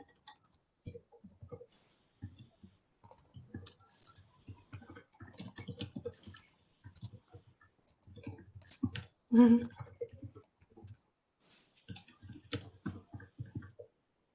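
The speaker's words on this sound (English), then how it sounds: "Let me just type it down." Typing on a computer keyboard in bursts of light, irregular clicking that stops and starts, quiet and close, with short gaps between runs of keystrokes.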